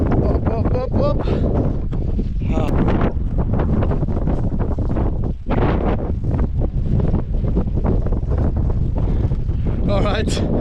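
Strong mountain wind buffets the microphone with a constant loud roar and gusty rumble throughout, while someone speaks faintly underneath.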